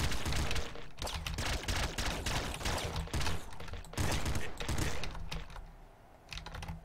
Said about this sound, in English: Triple machine gun, that's quite good.